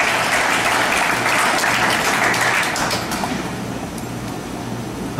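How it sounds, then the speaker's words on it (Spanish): Church congregation applauding during a sermon, a dense, steady clatter of many hands that holds strong and eases slightly toward the end, with a faint low hum beneath. "Y dale un aplauso si estás entendiendo."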